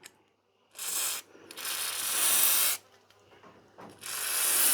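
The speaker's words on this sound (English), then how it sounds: "Now I'm going to use WD-40, it's just a pretty common lubricant." WD-40 lubricant is sprayed onto a nail gun part in three separate bursts of sharp, close hiss, with brief quiet gaps and faint handling clicks between them.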